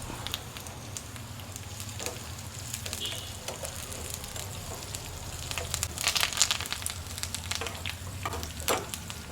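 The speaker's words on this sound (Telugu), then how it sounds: "వీటన్నిటిని ఇలా బాగా దోరగా వేయించుకోవాలి ఇందులోకి కొద్దిగా కరివేపాకు" Spices, onions and curry leaves for tempering fry in hot oil with a continuous crackling sizzle, close and moderately loud, dotted with small pops throughout.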